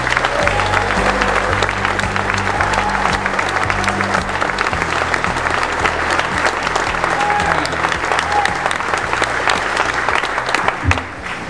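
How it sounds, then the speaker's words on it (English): Sustained audience applause at a veterans' event, loud and dense throughout and welcoming 9/11 first responder David Miller, with faint cheers mixed in before it thins out near the end. "Everybody, please give a huge round of applause for David Miller"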